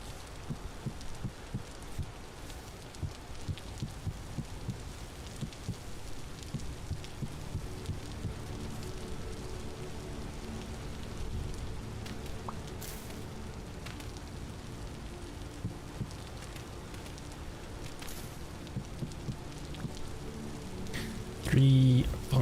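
Steady rain falls in the survival game Vintage Story, a continuous soft patter that fills the background for the whole stretch, with a few sharper taps and a louder bump near the end.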